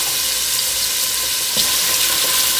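Shrimp stock ingredients frying in a pan, a loud, steady close-up sizzle with a brief crackling burst partway through, no voices.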